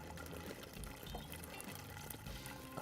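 Water pours from a broken-topped watering can into an Earthbox planter reservoir, a steady, soft, continuous splashing and trickling with no talk.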